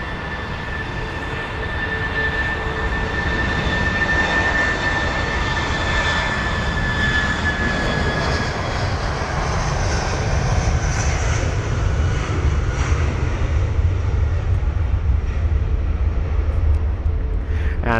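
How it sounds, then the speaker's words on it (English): An Air Serbia Airbus A319 takes off at London Heathrow, its jet engines roaring in a steady, loud rumble with a faint whine, swelling slightly as the aircraft climbs away. "We've got the Air Serbia A319. Heading to Belgrade most likely, but we will definitely clarify after it lifts off."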